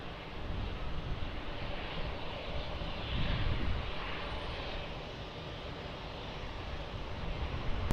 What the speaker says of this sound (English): Boeing 737 rolling